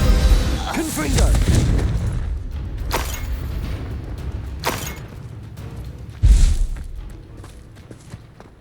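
A Confringo spell explosion in Hogwarts Legacy, a burst of blasts and booms with several sharp impacts and a heavy thump near the end, set against game ambience.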